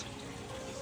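A short burst of water sprayed onto citrus plants in a backyard growing dome gives a faint, steady hiss, brief and quiet, with no talking.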